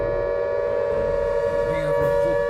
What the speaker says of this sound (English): That's an air raid siren.